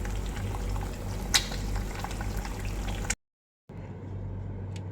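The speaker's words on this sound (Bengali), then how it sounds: "পানি গরম হয়ে গেছে" Water heats in a pot on a home kitchen stove before coffee is made, giving a steady close bubbling and hissing boil with occasional sharper pops, cut by a brief silence before the bubbling resumes.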